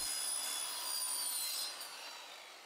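Saw cutting through bent plywood to remove the curved section, a steady, fairly close rasping cut with a bright, hissing texture that holds for a couple of seconds and then eases off slightly in level.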